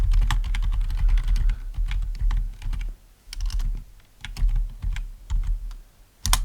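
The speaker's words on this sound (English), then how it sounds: "I'm going to type the whole thing" Typing on a computer keyboard, a rapid uneven run of close, fairly loud key clicks with brief pauses between bursts, entering text in an online design workspace; nobody talks.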